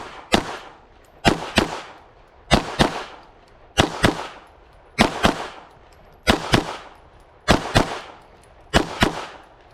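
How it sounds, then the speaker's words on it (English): Pistol shots fired at two USPSA targets in sharp, loud pairs, with seven quick double-taps evenly spaced and a short ringing decay after each, outdoors with no talking. "We're going to fire 2 shots into the A zone, transition back and forth."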